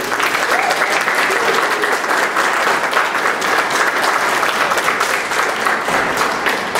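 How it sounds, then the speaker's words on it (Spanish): Steady, dense applause from a large crowd at an international storytelling event, sustained throughout with no pauses. "a artista invitada de Chile, Sandra Aravena, a quien recibimos con un caluroso aplauso."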